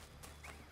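A horse's hooves clip-clop softly in Assassin's Creed III, a few quiet, close steps over a low game ambience.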